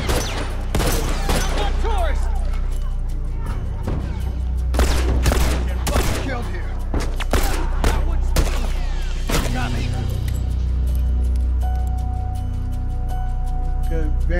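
Sniper fire in an Uncharted multiplayer match: a series of sharp, loud cracks spaced a second or two apart rings out over steady game noise, with players talking over the shots.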